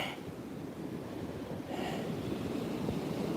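Steady wash of surf and wind close by, swelling louder partway through as a wave rolls in, with no voices.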